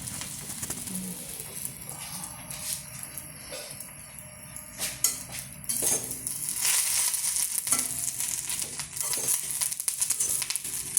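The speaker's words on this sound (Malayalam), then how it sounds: "ഇനി നമുക്ക് ഇതിനകത്തോട്ട് ഈ അരിഞ്ഞ് വെച്ചുണ്ട് ബ്രെഡ് കഷ്ണം കണ്ടോ, ഇതിലോട്ട് ഇട്ട് കൊടുക്കുകയാണ് ഞാൻ" Chopped bread pieces fry in oil in a pan for a bread and egg hash, a steady soft sizzle with scattered clinks and scrapes of a utensil against the pan, growing busier and louder in the second half.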